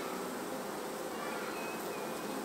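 Honey bees buzz in an open hive during an inspection, a steady, dense hum that stays even and close throughout with no talk.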